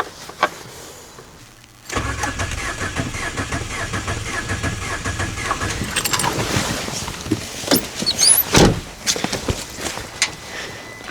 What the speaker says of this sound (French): je vais mettre 3-4 coups de démarreur